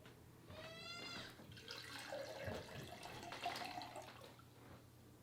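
Water poured from a cup into a container during a children's church lesson, a steady trickling splash lasting several seconds, close and moderately loud with faint room noise.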